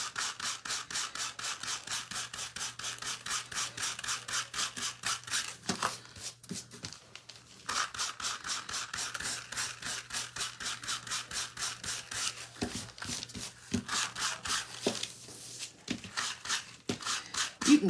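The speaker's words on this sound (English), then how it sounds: "You can kind of go and sand around it too, just so it like evens up the fabric" Sandpaper rubbed back and forth over a primitive Halloween fabric-covered wooden craft piece, a steady close scratchy rasp of quick strokes with a few brief pauses, no talking.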